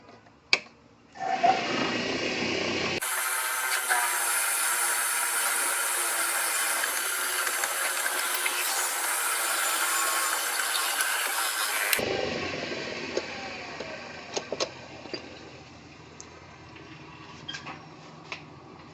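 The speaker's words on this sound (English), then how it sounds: "now I'm using an 11/32 drill bit" An 11/32 drill bit bores a hole just over an inch deep in a segmented fountain pen blank, a steady high whirring drone running for about nine seconds between quieter handling clicks and taps.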